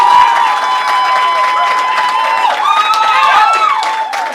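At a Quebec political debate, the audience erupts into loud clapping mixed with cheers, whistles and shouted voices, a full and lively crowd roar that holds steady from start to finish.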